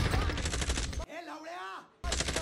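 Gunfire in the Warzone video game: dense, rapid bursts of shots up close that break off for a quiet gap and then resume at full loudness.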